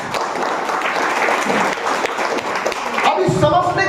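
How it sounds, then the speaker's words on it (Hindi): A church congregation bursts into sustained hand clapping, a dense crowd applause that continues steadily throughout, with voices rising faintly beneath it near the end. "एक बार ताली बजाएंगे।"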